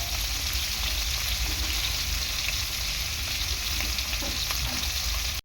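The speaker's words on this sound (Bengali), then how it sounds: "তো এরকমভাবে মাছগুলো সব ভেজে নেব" Pieces of fish frying in hot oil for a curry with giant taro, a steady close, loud crackling sizzle running without pause and with no talk.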